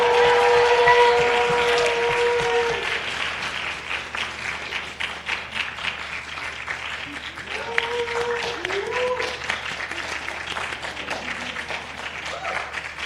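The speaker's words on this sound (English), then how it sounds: "Let's have a huge round of applause for all of our arts accolades this evening." A school committee meeting's arts awards draw steady, dense audience applause that rolls on for several seconds, loud at first and then settling, with some voices mixed in.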